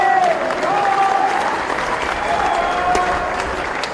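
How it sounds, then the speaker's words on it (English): Sustained clapping from a gathered crowd at a motorcycle rally awards ceremony, loud and even, with a few cheers rising over the applause. "Want everybody to give John a round of applause."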